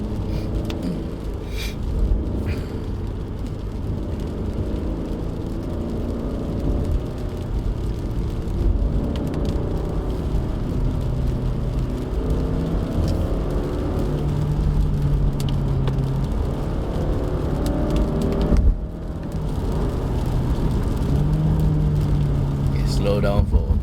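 2020 Subaru XV GT Edition driving down a wet mountain road at Genting, a steady low engine and tyre drone heard from inside the car, with someone talking over it much of the time.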